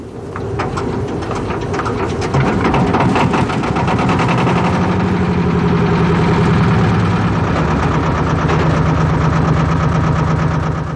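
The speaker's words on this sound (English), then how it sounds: "If the lifeboat has an air-cooled engine, this should now be started." A lifeboat's air-cooled engine runs at a steady, loud, close idle, a dense and continuous mechanical drone with no voices over it.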